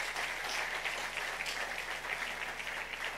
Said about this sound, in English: Clap Jesus